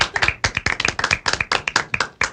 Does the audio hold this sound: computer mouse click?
no